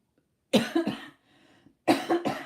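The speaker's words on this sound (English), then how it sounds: "I've got a stinking cough" A person with a heavy cough gives two bursts of harsh, close coughing, each two or three quick hacks, with a brief throaty pause between them.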